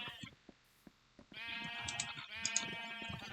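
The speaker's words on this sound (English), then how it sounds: "We're going to figure out how to dye sheep today." Sheep in Minecraft let out sharp bleats over a few scattered clicks, then a long, loud, wavering baa rings out close by, alone without talk.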